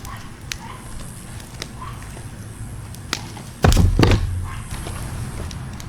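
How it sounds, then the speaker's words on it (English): Wood and cardboard are piled onto a fire-resistant safe sitting in a burning fire, giving scattered light clicks and knocks followed by a heavy thudding clatter and crunch near the end, over a steady crackling background. "Let me put the chest on top and cover it up with more wood and cardboard."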